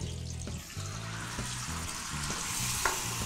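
Pork ribs sizzle and fry in a pan with sugar added to brown them, a steady close crackle with occasional stirring scrapes and no talking.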